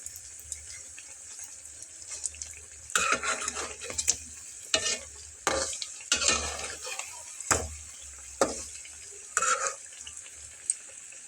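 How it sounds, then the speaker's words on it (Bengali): Potato nuggets fry in oil with a low, steady sizzle, broken by several louder bursts of crackling and clattering as the pieces are turned in the pan. "আর একটু ফ্রাই করে নিয়ে তুলে ফেলবো"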